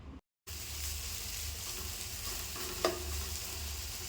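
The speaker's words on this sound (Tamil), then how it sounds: "இப்போ இதுக்கு தேவையான அளவு தூள் உப்பு சேர்த்து கலந்து விட்டுக்கலாம்" Salt is stirred into a mango rice mixture with ground coriander and coconut paste in a pan, giving a steady soft sizzle and scraping, with one sharper clink near the end and no talking.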